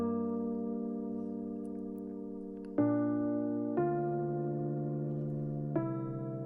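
A layered electric and dark piano riff for an organic house track, treated with delay and saturation, sustains low and warm, and new chords enter at a steady pace over a soft ringing bed.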